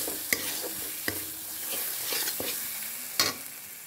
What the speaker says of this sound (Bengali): মশলাটা ভালো করে কষানো হয়ে গেছে